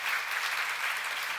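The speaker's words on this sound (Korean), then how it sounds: "박수 치세요." A church congregation claps together during a Psalms sermon, a dense, steady roar of many hands heard from amid the crowd, moderately loud and sustained throughout.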